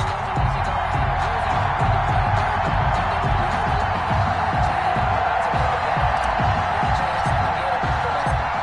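Stadium crowd in an EA Sports NFL game before a Cincinnati Bengals versus Baltimore Ravens matchup: a steady, dense roar of cheering that holds at an even, loud level throughout.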